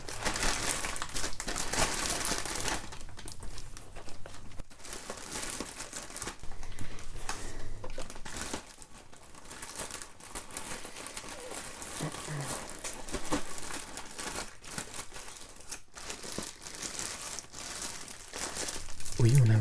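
A plastic shopping bag crinkles and rustles in close, crisp bursts, handled at length in a quiet indoor shop setting with soft sounds and light talk around it.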